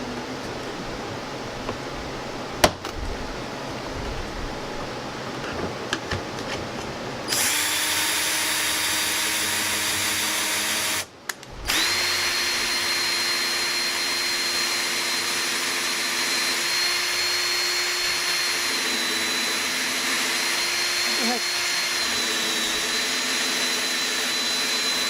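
Power drill boring pocket holes into the rear of wooden pieces for a monogrammed photo display, a loud steady whine running continuously with a brief pause near the middle before resuming.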